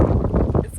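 Gusty wind buffets the microphone on a foggy, rainy mountain summit during a Shenandoah hike, a brief steady low roar with small surges.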